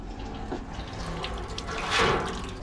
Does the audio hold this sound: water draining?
yes